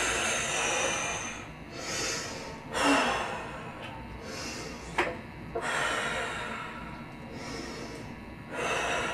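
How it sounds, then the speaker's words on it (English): A person takes deep breaths up close, a series of loud inhales and exhales with gasps and sighs spaced a second or two apart. "Take some deep breaths"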